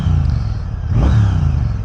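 A 2025 Triumph Bonneville T120 Elvis Presley Edition with its stock exhaust runs close by in first gear; a loud, steady engine note swells briefly in a short rev midway, then settles back.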